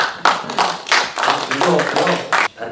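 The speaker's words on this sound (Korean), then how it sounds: "그 열정에 다시 한번 박수를 보내드립니다" Audience clapping at a film press screening and press conference, a brief burst of several claps in quick succession, fairly close and loud.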